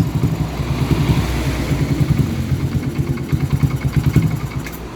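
A Motorstar 100 motorcycle engine running rough and sputtering as the throttle is opened, a close, steady, lumpy putter with uneven misfiring pulses throughout.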